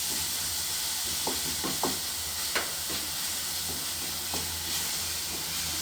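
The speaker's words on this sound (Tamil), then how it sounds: "இதை நல்லா கிளறி விட்டுருங்க. இந்த இஞ்சி பூண்டு அந்த பச்சை வாசம் போகிற வரைக்கும் நம்ம கிளறி விட்டுக்கலாம்." Ginger garlic paste sizzles steadily in a hot pan for a masala gravy, with a constant frying hiss and several soft scraping knocks of a spoon as it is stirred, close by and with no talk.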